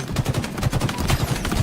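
Rapid gunfire from Halo Infinite tournament play, a steady rattle of repeated shots at even volume throughout, no voices.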